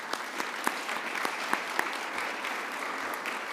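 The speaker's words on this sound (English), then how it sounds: "so let's give him a round of applause." Steady applause from an audience at a corporate awards ceremony, the CXO of the Year Awards, a dense even patter of many hands with a few sharper claps, held at moderate level throughout.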